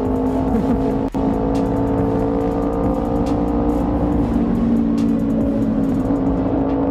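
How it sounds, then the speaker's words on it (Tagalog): A motorcycle with an aftermarket exhaust runs at a steady, loud, close idle, with a deep continuous engine drone and a sharp click partway through; no one speaks. "Sarap bumalik sa aftermarket exhaust."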